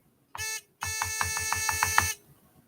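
A metal detector pinpointer gives a short beep, then a rapid series of buzzy pulsing beeps in quick succession, loud and close, in a quiet setting.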